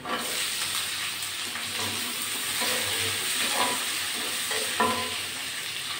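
Chopped onion and garlic fry with a little salt in a pan, a steady broadband sizzle running throughout with occasional stirring scrapes and clinks, fairly close and even in loudness.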